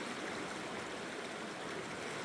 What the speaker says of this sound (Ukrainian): звуки річки,